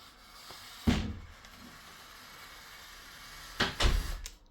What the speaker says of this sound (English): Can it close my door?